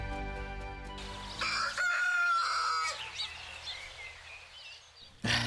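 A rooster, a white rooster spirit in an animated fairy tale, crows one long, loud, rising and falling call at close range after a burst of music, fading into quieter background ambience.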